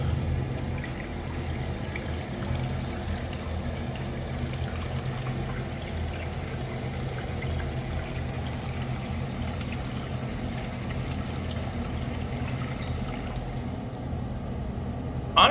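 A 1930s–1950s Standard Washal urinal runs its bowl rinse, a steady, continuous rush of flushing water with an even, unbroken hiss, close by and alone, cutting off near the end.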